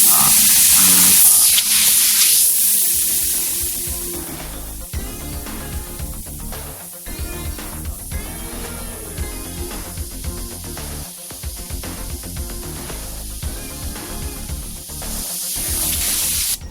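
Continuous hissing spray from an airbrush applying paint, with bursts switched on and off in an irregular rhythm; steady and fairly loud throughout, with no talk over it.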